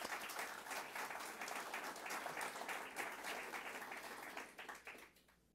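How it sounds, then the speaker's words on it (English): Audience applause at a governor's speech on a multi-state climate plan, steady dense clapping from a crowd that tapers off at the end, fairly distant and without talk. "So round of applause for you."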